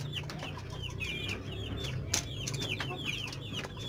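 Clucking chicken with a respiratory illness (ngorok, snoring) during home treatment, giving short repeated calls that sit over a steady low hum and rustle, fairly close.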